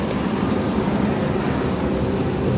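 A steady, broad low rumble of an MRT train passing close by, continuous and fairly loud with no voices.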